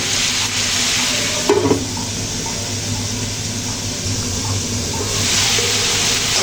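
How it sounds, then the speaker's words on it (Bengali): Vegetables fry in a wok with turmeric, giving a steady, close sizzle with a few scraping stirs and clinks of the spatula part way through. "হালকা হলুদ দিয়ে সবজিগুলো ভেজে নিচ্ছি দুই তিন মিনিটের জন্য"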